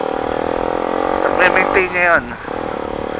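A motorcycle fitted with a new muffler idles with a steady, throaty pulse, then revs briefly twice before settling back to idle. The bike is close, and someone talks over it.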